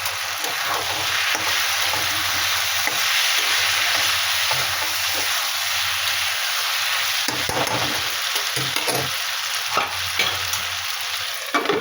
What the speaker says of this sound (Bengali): ধনে পাতা দিয়ে আবার একটু ঢেকে দেবো, একটু নাড়াচাড়া করে।